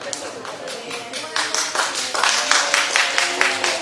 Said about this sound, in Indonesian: Ini tidak perlu ada tepuk tangan.